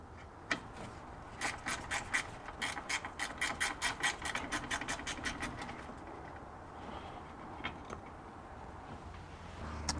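A ratchet wrench clicks rapidly and evenly while loosening a bracket bolt on the steering rack of a BMW E46, close and crisp for several seconds before trailing off into quieter handling of metal parts.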